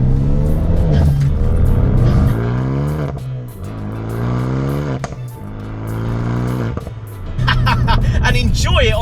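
A 320 bhp Renault Megane R.S. 250 Cup hot hatch with an upgraded exhaust system revs loudly and close, its engine note rising and falling through repeated pulls and gear changes.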